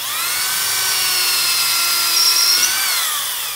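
A power drill bores a hole while making a homemade Robocop-style car horn, giving one continuous, loud whine at an even pitch that rises slightly in the middle and then winds down.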